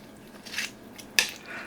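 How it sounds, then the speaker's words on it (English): Stirring a pot of Kentucky burgoo stew, two brief scraping and clinking touches of a utensil against the pot, close and fairly quiet, with no talk. "Try to stir it up just a little bit."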